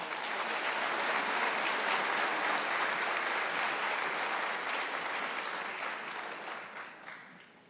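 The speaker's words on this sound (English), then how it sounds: "Let's give this group a round of applause." Audience applause fills a scholarship award ceremony, with sustained dense clapping from a sizable crowd that holds steady for several seconds before tapering off toward the end.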